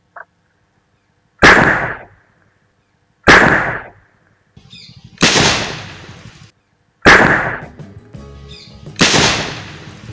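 Five loud, sharp blasts from a homemade monkey gun used to scare animals off crops, each a sudden bang with a short decaying tail, spaced about every one to two seconds, with a faint click just before the first.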